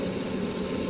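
Steady, loud jet engine roar from a fighter taking off in the Strike Fighters 2 flight game, an unbroken drone with a high whine running throughout.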